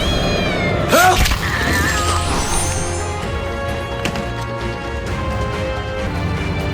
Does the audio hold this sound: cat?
yes